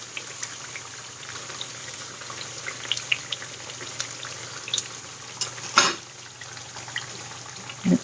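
Batter frying in hot oil after a batch of sweet potato fritters gives a steady bubbling sizzle, with scattered crackles and a few louder pops standing out over the continuous hiss.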